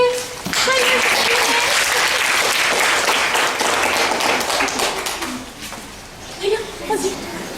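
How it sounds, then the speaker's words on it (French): Schoolchildren in a primary classroom burst into clapping, loud and dense for about five seconds before thinning out into scattered claps and a few voices. "Applaudissez."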